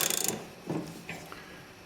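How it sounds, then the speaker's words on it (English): Ratcheting clicks from a 9/16 socket wrench tightening the idler pulley bolt on a zero-turn mower deck, a quick run of close, rapid clicks followed by a few faint metallic knocks. "Tighten with a 9/16 socket or wrench."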